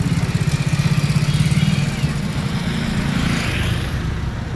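A repaired motorcycle that had been damaged runs steadily at close range, its engine giving a loud, continuous pulsing drone with no talk over it.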